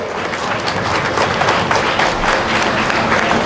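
A standing audience at a Ganesh Chaturthi memorial gathering applauds with steady, dense clapping throughout, fairly close and loud.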